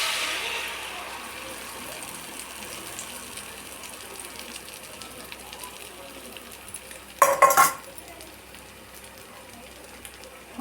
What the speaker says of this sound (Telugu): ఆయిల్ బాగా హీట్ ఎక్కింది. ఈ ఎగ్ మిక్చర్ని ఇందులో పోసుకుందాం.